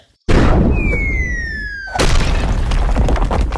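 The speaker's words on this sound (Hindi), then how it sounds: "मोजा फायर करता है" Comic animation effect of a gun firing, a loud boom with a falling whistle-like tone that gives way to a sustained rumbling crash of a building collapsing, all loud and close with no talk.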